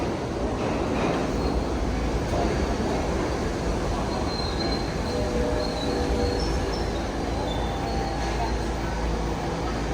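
An old New York City subway Q train rumbles steadily along, with faint high-pitched wheel squeals cutting in briefly partway through and voices murmuring underneath.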